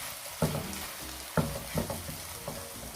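Chicken liver sizzles steadily in a pan while a utensil stirs it, with four or five soft scraping knocks spaced through a constant frying hiss, close and moderately quiet.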